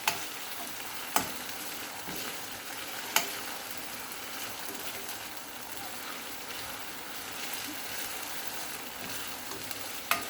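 Garlic sautéing in hot oil in a pan, a soft continuous sizzle with occasional sharp clacks of a spoon against the pan, steady and moderately quiet with no voices.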